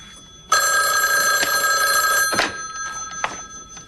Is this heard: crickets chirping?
no